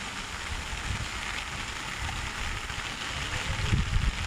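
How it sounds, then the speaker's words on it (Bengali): Early-morning rain falling on a quiet Dhaka street among buildings, a dense continuous wash of drops with a low rumbling undertone, steady and moderately loud with no one talking. "বৃষ্টি হচ্ছে কিন্তু দেখেন বৃষ্টি হচ্ছে।"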